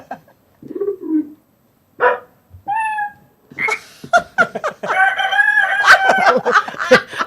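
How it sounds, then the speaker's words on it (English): A rooster crow played from an electronic keyboard, repeated in several short synthetic bursts before a longer, denser run of crowing and animal-like tones, fairly loud with no talking. "Something with a rooster crowing."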